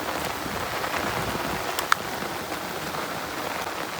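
Steady rain falls at night during the first monsoon shower on a traditional crab-catching outing, a dense even hiss with one brief sharp tap partway through.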